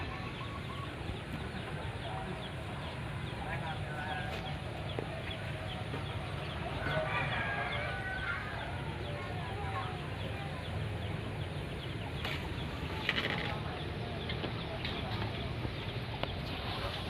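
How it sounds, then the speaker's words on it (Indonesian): A white-breasted waterhen calls nearby in the open, its clucking notes faint and scattered over a low outdoor background while people talk quietly. "Burung ruak-ruak sudah mendekat guys."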